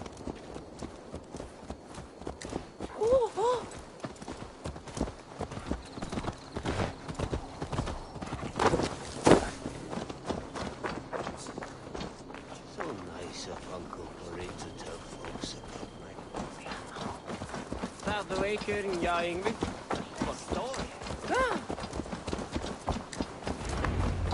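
Horse hooves clip-clop steadily at a walk in Assassin's Creed Valhalla, with an occasional whinny, while characters talk over the footfalls.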